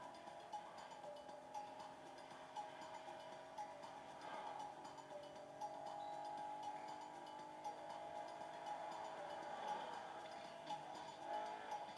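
A fully upgraded Aston Martin Vantage engine in the racing video game Motorfest holds a steady, droning tone that swells slightly as it accelerates, with no talking over it.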